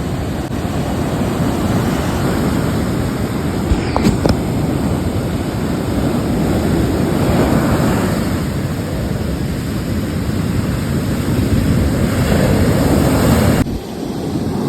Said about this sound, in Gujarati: દરિયો ગાંડો તૂર થયો છે.